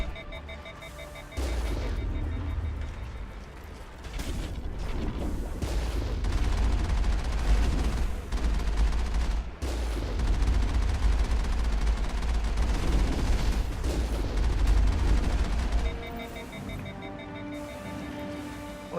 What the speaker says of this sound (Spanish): Se raya un poco y está disparándonos de costado.